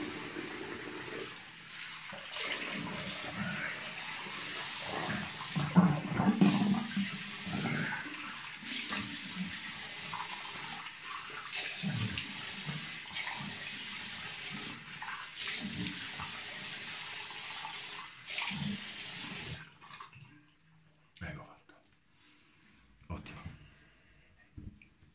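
A tap runs steadily for about twenty seconds while a man rinses his face after a shave, first with lukewarm then cold water, with splashing under his intermittent talk before the flow stops and quiet handling sounds follow.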